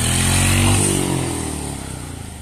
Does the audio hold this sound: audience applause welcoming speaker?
no